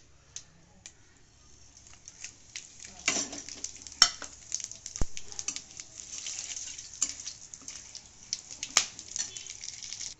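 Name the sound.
bay leaves, dried chilies, cumin, cloves, cardamom sizzling in hot oil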